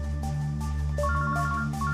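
A mobile phone ringtone goes off in a room after a number is dialed, a steady electronic melody of short repeating tones playing alone at moderate loudness for about two seconds.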